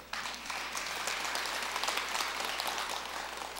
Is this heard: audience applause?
yes